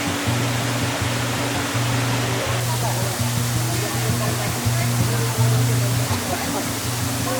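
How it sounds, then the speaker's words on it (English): The Charco Prieto Waterfall in Puerto Rico pours in a loud, constant broadband rush, with a low steady hum running beneath it and no clear change throughout. "this is the Charco Prieto Waterfall in Puerto Rico"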